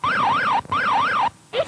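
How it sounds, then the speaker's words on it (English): A police car siren wails loudly and close, rising and falling in two long sweeping cycles separated by a brief gap, then starting up again briefly at the end. "This is police car."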